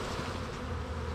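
Honeybees open up during a hive inspection for a varroa test make a close, thick, continuous buzzing hum, with no talk heard over it.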